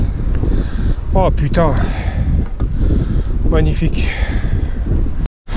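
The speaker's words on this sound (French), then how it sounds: "Avec ce bon petit vent dans le nez." A strong headwind buffets the microphone during a cross-country mountain bike ride, a loud continuous rumbling roar with gusting swells. A rider speaks briefly over it.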